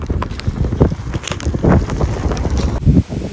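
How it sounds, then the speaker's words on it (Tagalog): Strong wind gusting outdoors on a rainy walk, buffeting the microphone with uneven low rumbling thumps and a steady rushing noise throughout. "Nang lakas ng hangin ba?"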